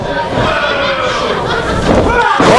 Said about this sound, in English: Backbreaker.